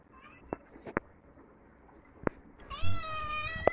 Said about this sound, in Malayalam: എപ്പോഴും ഉണ്ടാവും ഇവിടെ നമ്മുടെ സ്വന്തമായിട്ടുള്ള പൂച്ച